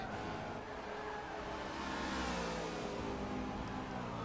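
V8 Supercars racing on a qualifying lap heard from a distance, a continuous blended engine drone that swells and fades slightly, with no talking.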